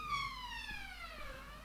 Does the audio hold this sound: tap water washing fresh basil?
no